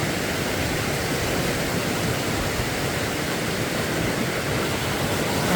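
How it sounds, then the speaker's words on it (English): Snyder Creek near Lake McDonald Lodge in Glacier rushes down the mountainside, a loud, steady, broadband roar of racing water close by with no pauses and no voices. "The water running and racing down the mountainside."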